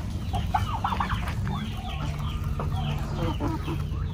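Chickens cluck and murmur in a farm setting, several birds calling in short, overlapping bursts over a steady low background hum, moderately close and fairly quiet.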